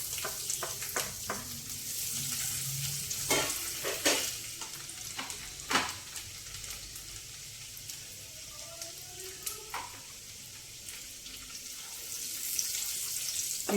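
Finely chopped ginger and garlic fry in hot oil with a steady, soft sizzle, broken by sharp scraping clicks of a spoon stirring the pan now and then; close by but fairly quiet, with no talking.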